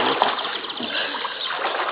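Water splashes over a baby girl during her first bath, a steady wash of splashing and sloshing with one sharp splat near the start, close and fairly loud with no talk.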